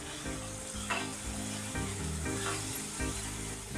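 Chicken pieces coated with salt and chili powder are tossed in a hot pan, giving a continuous close sizzle with a couple of soft stirring scrapes over a low, steady tonal hum.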